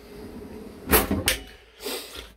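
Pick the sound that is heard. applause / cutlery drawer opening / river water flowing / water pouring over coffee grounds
cutlery drawer opening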